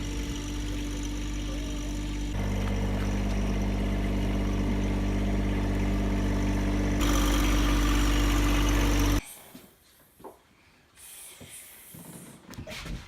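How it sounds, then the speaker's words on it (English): A tractor engine runs steadily and fairly close while it carries a freshly painted sink in its front bucket, a loud continuous idle-like drone that cuts off near the end, leaving quieter handling noises. "They're bringing my freshly painted sink to the house on the bucket of the tractor."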